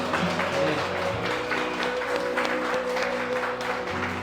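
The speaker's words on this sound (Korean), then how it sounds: "하나님께 감사의 박수 올려드리겠습니다" Steady applause from a church congregation at a worship and testimony gathering fills the room, with sustained tonal music or singing continuing underneath throughout.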